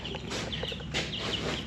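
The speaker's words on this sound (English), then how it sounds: "Somewhere around 20 chicks." Turkey poults and chicks in a brooder keep up a busy chorus of overlapping high peeps, close and continuous over steady background noise.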